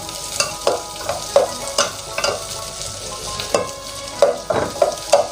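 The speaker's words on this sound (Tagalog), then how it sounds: "Ayun lang natin maluto yung sibuyas mga paps." Onion frying in a pan, a steady sizzle broken by repeated scraping and stirring strokes that come every half second or so, close and fairly loud, with no one talking.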